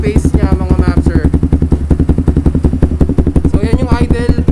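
Close, steady idle of a Kawasaki Z2S single-cylinder motorcycle with an MIVV Suono Italy muffler, a low rhythmic thumping pulse throughout, with a voice talking over it at the start and end.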